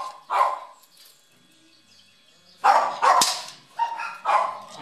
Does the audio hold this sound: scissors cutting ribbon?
no